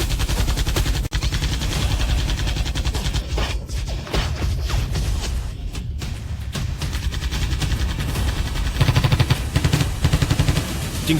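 A Blue Fire Gatling gun fires in a dense, continuous barrage of rapid shots throughout, loud and close, with a brief break early on and sharper bursts near the end.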